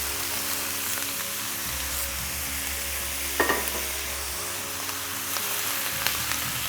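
Vegetables returned to a frying pan for a gluten-free fish pie sizzle with a constant crackle, joined by a near scrape of stirring partway through, and no talk.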